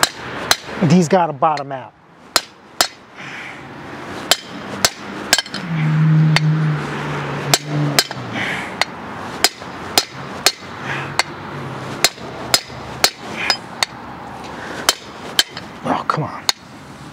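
A hammer strikes a brass punch against truck rear disc brake parts on a dually GMT400 Chevy GMC, sharp metallic whacks in irregular bursts, close and loud, with someone talking in between.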